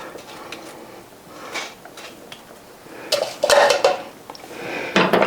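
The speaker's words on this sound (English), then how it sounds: "I'm gonna get this stirred." A spoon clanks and scrapes inside a pot as shirataki noodles are stirred into a creamy keto Southwest chicken soup, giving bursts of metallic clatter with short pauses between them.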